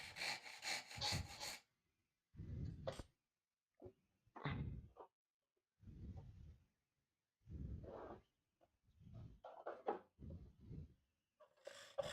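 Hand saw cutting wood in repeated bursts of back-and-forth rasping strokes separated by short pauses, close and moderately loud, with a few quick bright scrapes toward the end and no talking.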